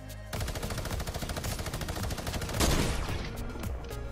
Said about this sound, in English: taking fire from an enemy with a minigun